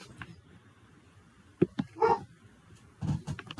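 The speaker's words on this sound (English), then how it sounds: "They always wait till I'm making a video to bark" Dogs barking somewhere in a house behind a closed door, a few short muffled barks and yips coming in separate bursts, faint and distant.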